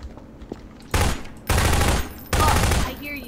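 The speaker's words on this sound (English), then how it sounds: "Oh, I hear you shooting." Loud bursts of automatic gunfire in Garry's Mod come in three sustained volleys, each lasting roughly half a second, close and dominant over quiet background chatter.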